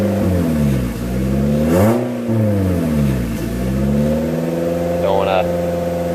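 A car engine held at steady revs while it warms up, rising and falling slightly in pitch with a brief surge partway through, loud and close, with a faint whine near the end.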